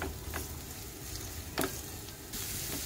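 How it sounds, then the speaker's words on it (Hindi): Chopped medium onion frying in hot oil in a pan makes a continuous close sizzle with a couple of sharp utensil clicks, and nobody talks. "एक मिनट हमने प्याज को तेल में पका लिया"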